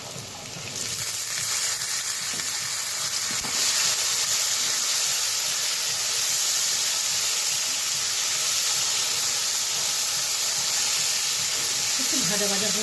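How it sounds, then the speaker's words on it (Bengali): Kabuli chickpeas and potato pieces fry in hot oil, giving a loud, continuous sizzle and hiss that runs unbroken for several seconds, with a faint stirring clatter near the end. "ছোলাটা আর আলুটা ভাজা ভাজা হয়ে গেছে।"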